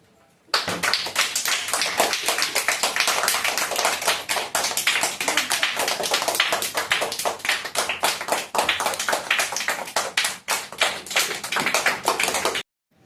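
Students in a classroom clapping together as a prize is given, a sustained burst of dense, rapid applause lasting about twelve seconds, close and loud, starting and stopping abruptly with no talk over it.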